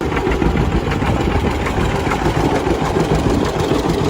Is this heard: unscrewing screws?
no